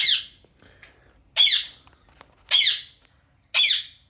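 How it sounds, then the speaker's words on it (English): A ringneck parrot gives four loud, harsh squawks, evenly spaced about a second apart, each a short burst close by with quiet gaps in between. "It's a ringneck parrot."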